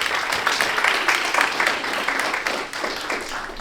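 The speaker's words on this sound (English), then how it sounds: "Let's give them a round of applause." Brisk applause from a crowd at a combat sports awards event honouring kickboxing world champions, a short burst of clapping with distinct individual claps.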